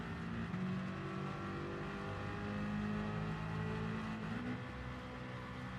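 A car engine in a racing simulator game drones steadily at moderate revs with shifting pitch throughout, continuous and fairly loud with no talking over it.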